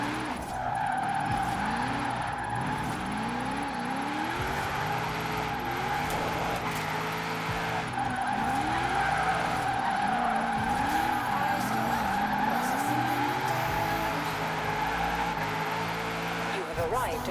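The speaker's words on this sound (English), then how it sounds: "the car sounds and stuff are a bit too loud now" A car drifts in Forza Horizon 4, its tires squealing loudly and continuously while the engine revs climb and fall again and again, with occasional voices underneath.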